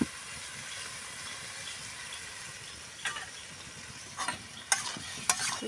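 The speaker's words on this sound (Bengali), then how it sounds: "মশলাটা কষে নেব।" Masala spice paste with green chili paste and a little water frying in oil for Bengali muri ghonto; a faint, steady low sizzle with a few sharp stirring scrapes near the end.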